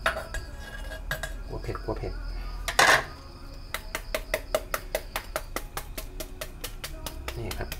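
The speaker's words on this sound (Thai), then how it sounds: "นี่ครับมันก็สับง่ายๆแบบนี้ครับสไตล์ของผมครับ" Food being chopped on a board at an outdoor cook-up with grilled mushrooms and snakehead fish, a run of sharp, rhythmic knife strikes after scattered clinks, with someone talking over it.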